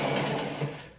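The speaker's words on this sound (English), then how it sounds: "So from here, I just resume my regular sewing." Domestic sewing machine stitching a polo shirt, a loud, steady, rapid mechanical whir with rhythmic pulsing that fades out at the end.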